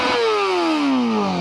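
A motorcycle engine with the muffler removed revs loudly, a single raw, harsh rev whose pitch falls steadily as it winds down.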